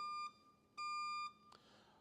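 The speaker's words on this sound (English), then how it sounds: "So that was the alarm for questions" An electronic timer alarm at a EuroBSDcon 2024 conference talk gives two steady, clear beeps, the second about twice as long as the first. A brief click follows near the end, with nobody speaking.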